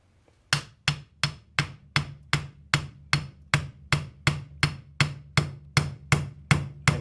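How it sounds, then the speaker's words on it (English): Light hammer taps on a classic Mini's wheel bearing ring out one after another at a steady, even pace, about two per second, each a short sharp knock with no one talking. "grab the hammer. Gently tap it, you're not trying to kill it."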